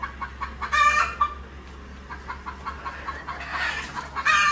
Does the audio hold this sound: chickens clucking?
yes